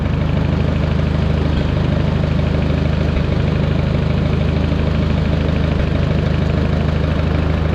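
An engine idles steadily up close, a continuous low rumble with an even, slightly knocking rhythm and no voices.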